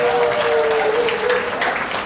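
An audience in a conference hall applauds to welcome a speaker, with dense, steady clapping from a crowd for about two seconds while a brief tone rings over it.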